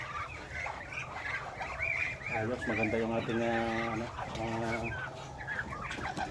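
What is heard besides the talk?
brooding hen clucking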